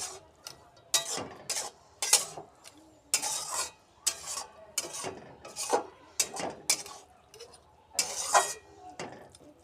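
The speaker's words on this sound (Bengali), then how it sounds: "এটা খুব ভালোভাবে মিশিয়ে নেব সমস্ত জায়গায়" Vegetable mix of pea leaves and rice flour being stirred for a ghonto, heard as a steady series of close, scraping strokes of a spoon against the pan, in irregular bursts with no talk.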